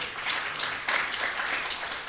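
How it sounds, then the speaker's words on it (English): A conference audience claps for itself, a brief steady patter of applause at moderate distance, fairly soft and continuous. "let's clap for ourselves because we have been active"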